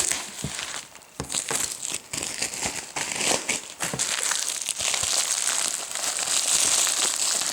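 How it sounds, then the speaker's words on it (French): Parcel packed in several layers of bubble wrap being unwrapped by hand, close and continuous crinkling and crackling of plastic with occasional sharper rustles, and no talking. "Avec beaucoup de papier bulle."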